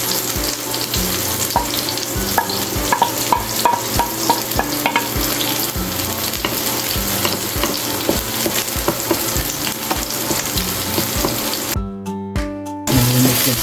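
Onion and garlic sautéing in a pan for pinakbet, a steady close sizzle of frying with stirring and scraping throughout, briefly broken by a short run of water near the end.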